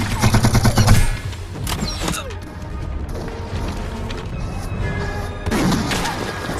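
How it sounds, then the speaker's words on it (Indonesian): French automatic weapons fire in a fast rattling burst, then break into scattered loud cracks and thuds over a dense, chaotic battle din, with a renewed burst of rapid fire near the end. "Senjata Perancis langsung membabi buta menghajar Xiangrong dan kawan-kawan."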